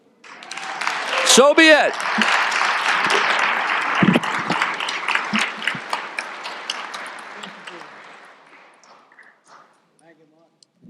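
Audience applause fills a state capitol hall right after a governor's Senior Day proclamation, loud and steady clapping that slowly thins out, with a short spoken remark heard over it.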